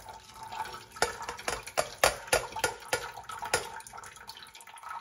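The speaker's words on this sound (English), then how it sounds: "Gently scrape the pasta from the pot." A utensil scrapes stuck macaroni from a metal pot, giving a series of short, close scraping strokes in an uneven rhythm, each a brief broadband rasp with small wet clicks between.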